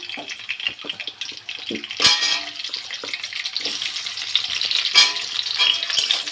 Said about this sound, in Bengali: আমি কড়ায় সামান্য পরিমাণে তেল দিয়ে দিয়েছি হ্যাঁ একটু গরম হোক